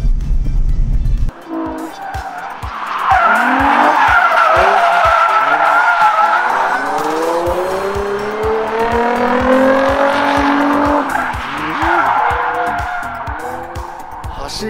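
Nissan Z33 lapping a track with its clutch freshly repaired, the loud engine revving hard through upshifts as tires squeal and skid, close and continuous.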